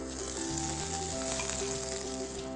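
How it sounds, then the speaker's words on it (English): Tacos sear in a pan with a little olive oil, giving a steady, close sizzle that runs unbroken throughout, with some faint tonal hum beneath. "Put very little of olive oil on it, and then I'm going to just sear it"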